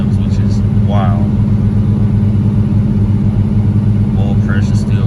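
A Monte Carlo engine fast-idles near 2,000 RPM with a steady, loud low drone and no change in pace, while a voice speaks briefly over it.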